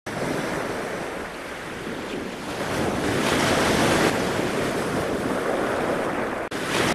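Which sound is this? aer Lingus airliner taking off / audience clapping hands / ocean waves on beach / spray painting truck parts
ocean waves on beach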